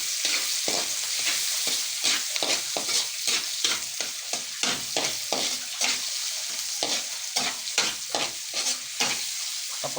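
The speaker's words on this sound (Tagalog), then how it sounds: "Lagyan na natin ang ating sibuyas. Madaming sibuyas." Plenty of chopped onions sizzle in a hot pan under steady, rhythmic stirring, a spatula scraping the pan roughly twice a second over a continuous bright frying hiss.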